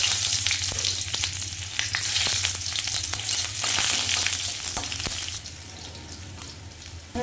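Onions frying in hot oil in a wok, a loud continuous sizzle broken by sharp crackles and scraping stirring strokes, with no talking over it.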